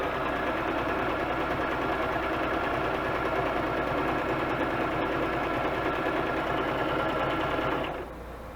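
A sewing machine runs continuously at steady speed, stitching a collaged paper button booklet, its close whirring, rapid needle chatter filling the room for several seconds before slowing and stopping at the end.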